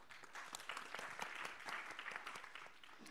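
Audience applause for a speaker at a research and science policy panel: a brief stretch of steady clapping from a modest crowd, fairly faint and distant, with no talk over it.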